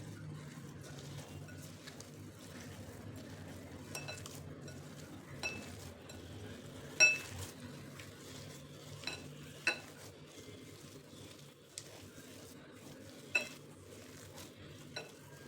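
Cutlet batter being mixed by hand in a bowl with pizza seasoning, coriander and salt: soft, faint stirring with scattered light clinks of a spoon against the vessel, quiet and close.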